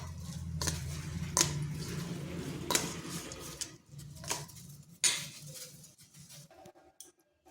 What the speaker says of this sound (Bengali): এরপর এখানে দিয়ে দিচ্ছি যে আলুগুলো ভেজে রেখেছিলাম সেই আলুগুলো ভালো করে ডিমের সঙ্গে মাখিয়ে নিচ্ছি